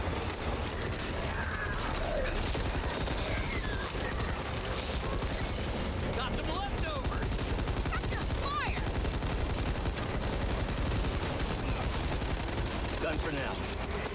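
Pistol gunfire in the video game Back 4 Blood, with dense bursts of shots and clattering weapon mechanics over a constant loud mix of game noise and action.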